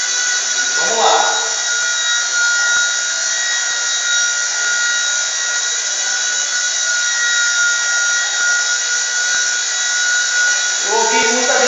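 A V922 RC helicopter in flight gives off a loud, constant high-pitched whine of motor and rotor that holds steady throughout, with a brief voice at the start and again at the end.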